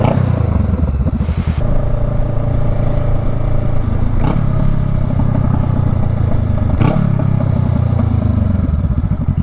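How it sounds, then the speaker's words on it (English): A Honda Rebel motorcycle with a Shorty GP exhaust idles with a deep, steady burble, heard close up from inside a helmet with the visor up, with occasional clatter and scraping over it. "Shorty exhaust sound with the visor up, but the microphone inside the helmet."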